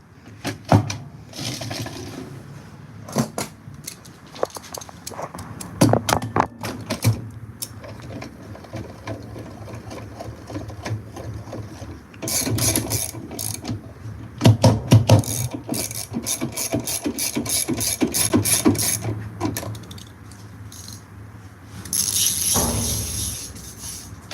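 A modern washing machine's triple action agitator runs with rasping, ratcheting mechanical churning and clicking bursts, fairly loud and close, in uneven surges across the whole stretch with no talking.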